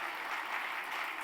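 Audience applause at a charity service committee event in India, a brief dense patter of many hands clapping at steady volume.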